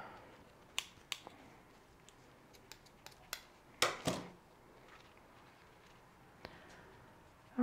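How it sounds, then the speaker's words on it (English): Scissors snip a rubber band on a bareroot toad lily, giving a few quiet, sharp clicks and cuts close by, with light handling noises between them and no talk. "So let's just cut this."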